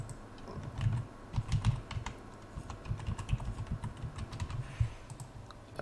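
A password is typed on a PC computer keyboard, giving a quick irregular run of soft, close key clicks and taps that goes on steadily for several seconds with no voices.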